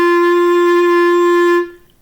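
A single sustained clarinet note with a thin, whiny tone holds steadily and loudly for about a second and a half, then cuts off, leaving quiet room tone.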